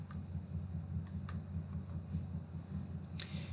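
A computer mouse clicks a few times while choosing from a drop-down menu, sharp faint ticks scattered over a quiet low background hum.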